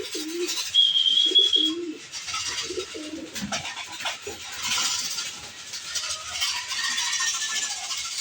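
Racing pigeons return to a loft roof after an 81 km race, cooing in several soft repeated low phrases close by, with a brief high chirp and a rustling background wash.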